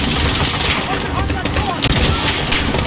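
Minigun fire in the Call of Duty: Modern Warfare video game, a loud sustained rattling barrage with sharp bursts, overlapping with excited voices talking.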